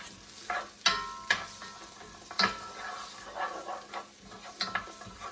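Vegetarian food cooking in a large pan, a faint, steady sizzle broken by scattered clinks and scrapes of stirring utensils against the pan.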